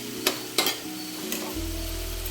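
Ginger paste hits hot oil with softened onions in a pan, two sharp stirring scrapes followed by a steady, close sizzle and frying hiss.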